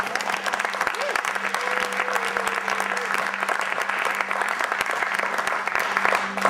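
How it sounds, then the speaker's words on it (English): A crowd applauds the team behind an event, a dense, steady round of clapping with a low steady hum underneath and faint voices mixed in throughout. "Please give them a round of applause."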